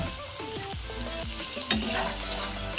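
Egg curry masala frying in a pan while it is stirred, with an even sizzle and a few scraping strokes of a spoon, close-up, with no voices.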